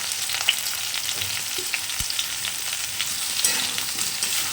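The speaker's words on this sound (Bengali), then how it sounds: "হালকা করে জাস্ট নাড়িয়ে নেবো বেগুনগুলো" Eggplant pieces are stirred into a pan of already-fried pumpkin, taro and potato, giving a steady close sizzle with soft scraping and knocks from the stirring utensil, and no voices.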